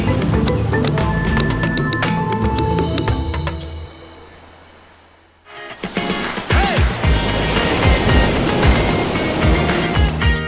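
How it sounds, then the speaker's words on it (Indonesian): Large ocean waves break on a southern coast beach in Gunung Kidul, Yogyakarta, their rushing surf mixed with a music bed, fading briefly before crashing back in loudly. "Tidak hanya pantai selatan yang memiliki ombak yang besar."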